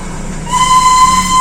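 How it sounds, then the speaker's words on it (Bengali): The Darjeeling toy train rumbles past at close range, a loud steady roll with a sustained whistle tone rising over it. "ট্রেন ট্রেন ট্রেন বাবা, টয় ট্রেন।"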